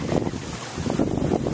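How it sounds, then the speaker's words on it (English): Wind gusts at a small pond beside a park, a rough, buffeting rumble that hits the microphone hard and keeps pulsing through the whole short stretch. "It's kind of windy."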